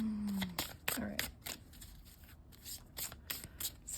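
A tarot card deck is shuffled by hand in a quick run of crisp riffling and slapping bursts, close and fairly loud, with a brief voice sound near the start.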